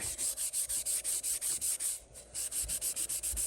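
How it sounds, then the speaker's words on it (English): An old 1921 wrench is scrubbed by hand with a Scotch-Brite pad, a close, steady back-and-forth rasping in even strokes with a brief pause midway. "we're just going to put a little bit of this on a Scotch-Brite pad and rub away"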